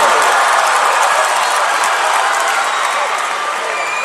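Basketball crowd roars and cheers after a dunk at a Charleston semifinal game, a loud, sustained wall of noise with some applause that stays dense for the whole stretch and eases only slightly near the end.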